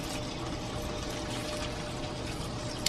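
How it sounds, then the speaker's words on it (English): Dry ice bubbling and smoking in water, a soft continuous gurgling fizz at low level with a small splash near the end. "some of the water's getting into the tray, and you can see that that's also smoking up pretty well. It's bubbling actually."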